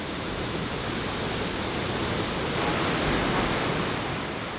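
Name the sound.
waterfall in Gan Eden, Israel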